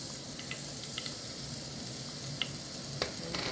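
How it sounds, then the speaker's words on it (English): Minced garlic sizzles steadily in hot olive oil, a continuous close frying hiss with a few soft stirring clicks and small pops scattered through it. "We are gonna add our minced garlic"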